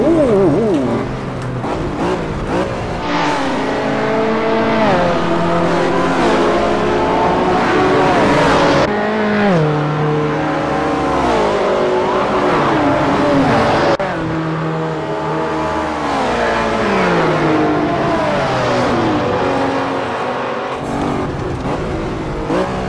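Lamborghini Diablo VT engine racing in Assetto Corsa, revving loud and continuous through repeated gear shifts, each climb in pitch broken by brief dips at upshifts and braking.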